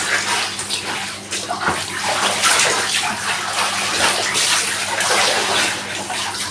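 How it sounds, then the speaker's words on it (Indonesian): Laundry rinsed by hand in water, giving a steady, close splashing and sloshing that runs unbroken throughout, with no talking. "Cucianku selesai juga, tinggal dibilas."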